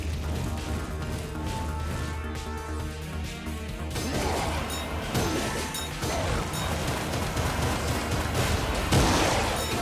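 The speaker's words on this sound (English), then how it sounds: "Nice big explosion there." A big explosion in the Battle Axe video game erupts midway as a dense, roaring wash of crashing debris over steady game music, loud and sustained for several seconds rather than a single bang.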